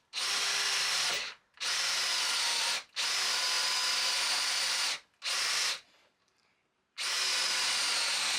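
A power drill cuts through a paper template on wood for a DIY toolbox, running in five loud, steady bursts with short pauses between them and no talk.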